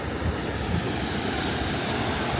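Ocean swells and waves wash in at Mission Beach, a continuous broadband rush of surf mixed with wind-like noise, steady and fairly loud with no voices.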